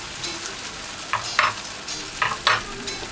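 Green peas and corn, thawed and still damp, stir-fried in a pan for bagoong Chinese fried rice: a soft steady sizzle with a few louder scraping stirs of the spatula, close and without talk.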